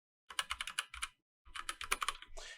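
Close, crisp keystrokes on a computer keyboard as a command is typed: a quick burst of clicks, a brief pause, then another run of taps ending in a firmer press.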